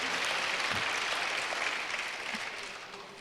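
A church congregation applauding during a New Year's Eve worship service; soft, fairly distant clapping that spreads through the hall and gradually fades toward the end.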